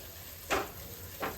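Ginger garlic paste sizzles in a pan as it is stirred, two brief hissing swells of frying rising over a low steady background, close and fairly soft.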